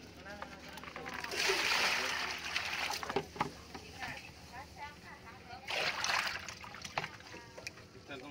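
Giant shrimp thrashing in a water basin at a seafood market in Van Don, producing bursts of sharp splashing and sloshing, close and fairly quiet, with people talking over it.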